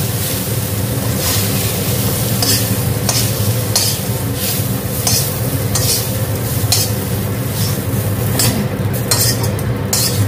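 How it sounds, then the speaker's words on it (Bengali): Jackfruit pieces fry in oil in a kadai with a loud, steady sizzle, while a utensil scrapes and stirs through them in repeated strokes and no one talks. "এঁচোড় কিন্তু ভাজা মোটামুটি হয়ে এসছে"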